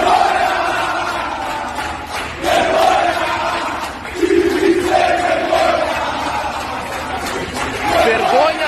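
Angry crowd of Internacional football fans protesting with loud shouted chants, a dense roar of many voices rising and falling continuously, with individual yells and shouting standing out over the mass.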